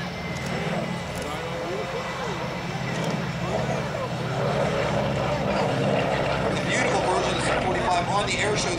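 A T-28 trainer with a 1,425-horsepower Cyclone radial engine drones steadily past at an airshow. The engine roar fills the whole stretch and grows slightly louder toward the end, while an announcer talks over it.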